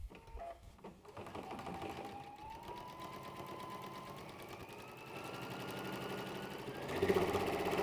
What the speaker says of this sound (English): just going to go to the machine and top stitch both pieces